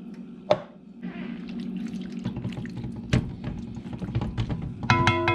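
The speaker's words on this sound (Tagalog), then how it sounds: "Tapos, lagyan natin ng tubig." Water is poured into a pan of pork being softened, a soft splashing trickle with drips and light clatter of the pan, close and fairly quiet, with no talk.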